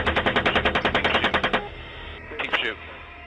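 Automatic gunfire in recorded footage of an attack in Baghdad: a rapid burst of about fifteen loud, evenly spaced shots, followed by a shorter distant burst after a brief lull, with no talk over it.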